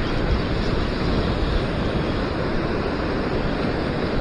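Steady roar of ocean surf breaking on the shore near Sydney, heard while fishing, a loud continuous wash of waves with no voices.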